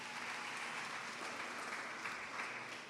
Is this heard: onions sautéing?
no